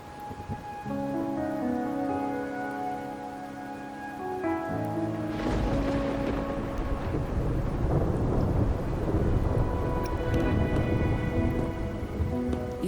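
A thunderstorm with rain in the Wuthering Waves video game: soft ambient tones give way to a heavy rolling thunderclap, followed by steady rain pattering under lingering rumbles.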